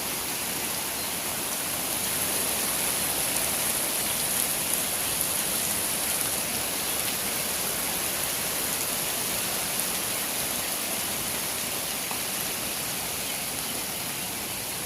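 Heavy hailstorm with rain in Chhoichh, Khatras, a dense, steady roar of falling ice and water drumming on surfaces, loud and continuous throughout with no voices.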